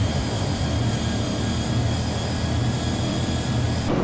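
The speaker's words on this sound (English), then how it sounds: "here's our lovely Airbus A320 from Lufthansa" Inside Flight Simulator X, a Lufthansa Airbus A320's engines give a steady, loud jet drone with a high whine layered over a low roar, continuous throughout.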